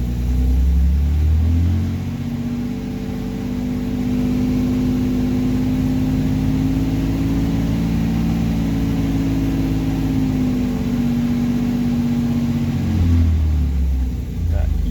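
Austin Healey 3000 engine idling steadily on choke while warming up, a deep even rumble with a strong low hum that holds level before dipping near the end, close and loud, with no talking.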